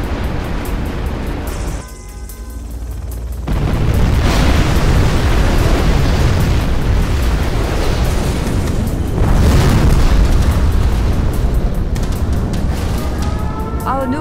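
Nuclear missile strike in C&C Generals Zero Hour, a massive rumbling explosion with a deep roaring blast that swells and sustains loudly, a brief dip before it surges again and rolls on like a long, crashing roar.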